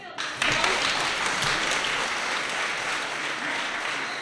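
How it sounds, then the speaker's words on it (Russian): An audience applauds steadily as children walk off a stage after a performance, a dense, even wash of clapping that swells in at the start and holds at a constant level. "Ребята спокойно идут под аплодисменты."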